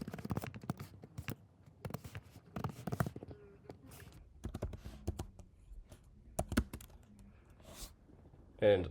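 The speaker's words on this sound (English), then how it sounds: "I'm just going to kind of type away here and you guys can follow along" Quick bursts of keystrokes tap on a computer keyboard while text is typed in the vim editor, irregular clusters of crisp clicks separated by short pauses, close and fairly quiet.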